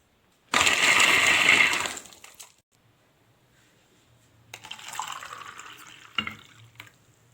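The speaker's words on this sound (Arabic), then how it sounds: "هخلص هضربه في الكبة وارجع لكم تاني" A blender whirs loudly for about a second and a half, blending pomegranate and beet juice, then stops; after a pause, a softer, uneven whirring and clattering returns, close by with no talking.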